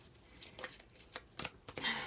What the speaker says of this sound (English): For my Leos, I was guided to shuffle again for these past 2